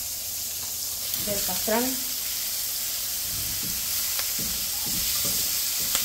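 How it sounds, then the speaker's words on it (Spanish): Onion frying in a little butter in a frying pan, a steady soft sizzle running underneath a person speaking throughout. "lo vamos a freír la cebolla en el mismo sartén"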